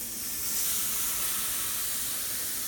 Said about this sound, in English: now we're cooking steak